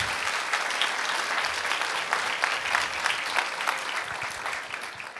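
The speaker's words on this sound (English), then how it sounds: "Let's give them a round of applause." Congregation applause in a church, a full, even round of clapping that carries on steadily for about five seconds.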